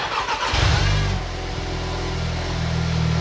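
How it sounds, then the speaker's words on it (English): An Audi/VW car engine cranks briefly and catches, flaring up with a loud rev before settling into a steady close idle. "I need to start the car up and get it up to temperature."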